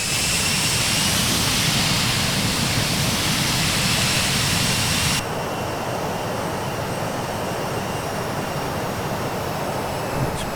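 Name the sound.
jet engines of a Douglas DC-8 on approach, flight simulator video game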